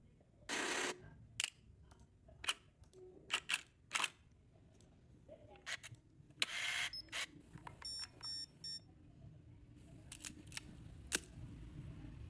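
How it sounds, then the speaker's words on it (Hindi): Camera shutter sound effects for CapCut editing, a series of short sharp clicks and snaps scattered irregularly over a quiet background, with a few brief beeping tones partway through. "ये इस पे भी आप शटर ही साउंड इफेक्ट्स यूज़ करें।"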